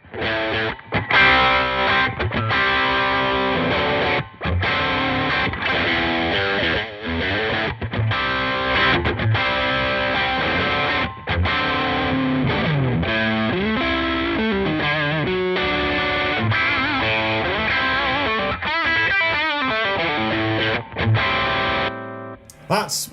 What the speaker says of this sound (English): Big Distortion says, adds quite a lot of distortion, but with an intact bass response.